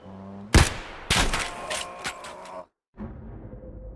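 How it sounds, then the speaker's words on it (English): Suppressed sniper rifle shots in a video game on a mountain map: a sharp crack, then a second loud report with a lingering tail and a sudden brief cut to silence before the game ambience resumes. "I heard the crack of his gun. Suppressed, I'm pretty sure."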